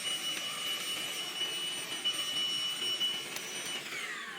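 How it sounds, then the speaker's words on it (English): A hoover vacuum cleaner working inside the engine bay of a Peugeot 2008 1.2 PureTech, giving a steady close whooshing roar with a high whine that shifts slightly as the nozzle moves. "trying to get the hoover in there, but that's not really working"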